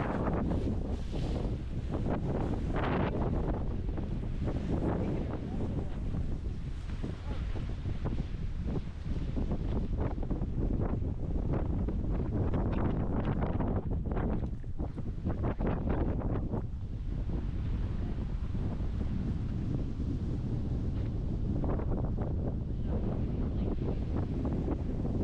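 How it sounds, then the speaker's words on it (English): Strong wind buffets the microphone at the Wildcat Mountain State Park observation point, a loud, continuous roaring rumble with gusty surges and no voices. "Windy to the point where it kind of starts to offset the mild temperatures."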